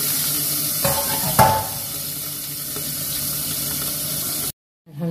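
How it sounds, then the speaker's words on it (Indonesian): Salted pindang teri fish fries in a pan with a steady, loud, close sizzle and a couple of stirring clatters, then cuts off abruptly near the end. "kita goreng pindangnya ya Bu"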